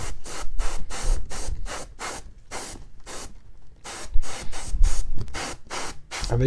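An airbrush sprays undercoat in a series of short, loud hissing bursts, close by, separated by brief gaps and one longer pause midway.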